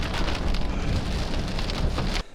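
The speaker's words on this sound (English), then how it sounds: "it literally just started pouring down rain" Torrential rain suddenly pouring down at Disney's Animal Kingdom Lodge in Orlando, a dense, loud, steady hiss of heavy drops on surfaces that cuts off abruptly at the end, with no voices.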